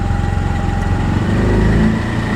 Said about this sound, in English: Jeep's coming.